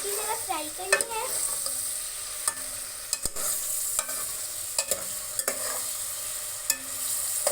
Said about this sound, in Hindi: आप लोगों को प्याज अच्छी तरह फ्राई करने हैं